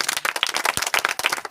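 An audience at a live stage event claps in a fast, dense burst of applause that is close and loud for about a second and a half, with no talking over it.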